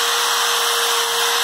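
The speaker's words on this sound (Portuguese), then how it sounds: "Furadeira para os pés." An electric drill whirs in a continuous high, steady whine, close and loud, used as a tool on feet; no speech.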